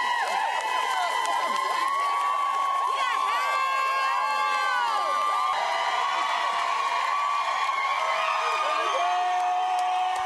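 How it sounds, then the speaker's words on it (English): A big crowd cheers and whoops to greet the returning Loyola Greyhounds basketball team on campus, steady and loud throughout, with shouting voices mixed in. "there was still a big crowd to greet them"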